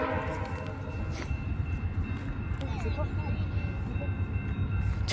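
A CN freight train rumbles steadily at a trackside signal in Brockville, Ontario, with a low continuous roar and a faint horn-like tone, while people talk nearby over the noise.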